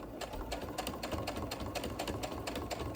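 A sewing machine stitches down quilt binding in a steady, fast, rapid-fire rhythm. The mechanical chatter runs continuously and close up for the whole stretch.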